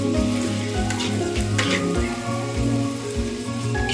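Chopped onions and green chillies sizzle steadily in a hot pan while being stirred, with repeated scraping strokes over a continuous loud frying hiss.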